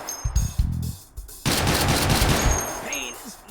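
Team Fortress 2 weapons fire in the VR game H3VR: a couple of sharp reports early on, then a loud sustained burst of rapid gunfire with a shell-like clatter that lasts over a second before fading, with a voice briefly in the mix.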